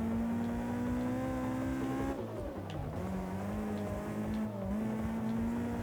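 A video game car drifts in Touge Shakai, its engine droning loud and steady at high revs. The pitch dips briefly twice as the car slides through the corner, with no talking.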